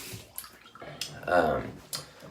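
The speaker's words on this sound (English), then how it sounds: "I'm going to get a little bit of water in there to start soaking that up before I get into the shave." Water trickles briefly into a shaving soap tub, a short splashing run amid faint clinks, with a voice speaking over it.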